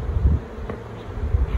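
Honey bees fly around an open, queenless hive being shaken out, a low droning buzz with brief swells as bees pass close.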